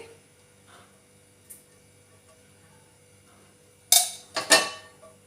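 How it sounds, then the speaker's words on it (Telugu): A metal pan is set on a lit gas stove to make an omelette, with a few sharp clanks and scrapes near the end after a quiet stretch. Poured oil is not clearly audible. "స్టవ్ వెలిగించుకొని ఒక ప్యాన్ పెట్టుకోవాలి ప్యాన్ వేడయ్యాక కొంచెం అంత నూనె పోసుకోవాలి"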